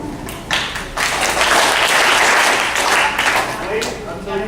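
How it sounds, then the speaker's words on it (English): Hands clapping a rhythm together with a group during a string ensemble performance, a dense burst of many claps that builds and sustains, loud and close, with some voices mixed in. "clap a rhythm with me"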